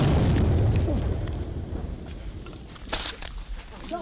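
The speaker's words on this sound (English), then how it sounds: "The explosion you just heard was from soldiers using explosives to destroy an excavator in the forest near the Brim River." Soldiers detonate explosives to destroy an excavator in a forest near a river; a loud low rumbling boom fills the opening seconds and decays, followed by scattered bursts and rustling, with voices audible.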